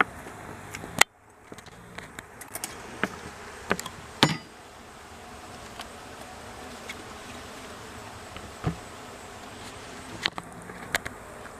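Honey bees buzzing at an opened hive during an end-of-summer inspection, a soft steady drone close by, with scattered clicks and knocks of frames and tools and no talk.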